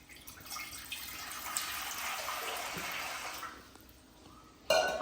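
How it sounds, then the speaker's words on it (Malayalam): Water poured over gooseberries in a pan to steam them, a rushing pour that swells and then fades, ending with a brief sharp clatter. "നെല്ലിക്കയില് കുറച്ച് വെള്ളം ഒഴിച്ചു കൊടുക്കാം"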